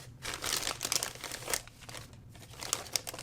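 Plastic inner wrapping crinkles and crackles as it is pulled off an S.H. Figuarts Zero Demon Slayer Giyu Tomioka figure, with close, busy rustling in uneven bursts and a few sharper snaps.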